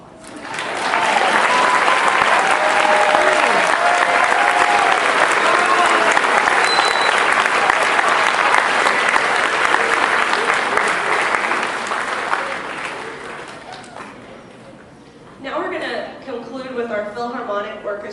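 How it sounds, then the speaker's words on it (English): An audience applauds an orchestra concert with sustained, loud, dense clapping for about twelve seconds, then fades out before someone begins speaking. "One more round of applause."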